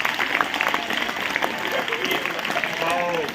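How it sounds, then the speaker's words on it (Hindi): A lecture-hall audience at a motivational talk applauds loudly and steadily, a dense wash of clapping with voices and shouts mixed in throughout. "जोरदार ताली बजाओ।"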